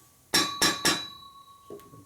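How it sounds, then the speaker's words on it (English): A hammer strikes a 1977 shovelhead motorcycle cylinder head under exhaust port repair, three sharp metallic blows in quick succession with a ringing tone, followed by a fainter fourth tap. "Hammer."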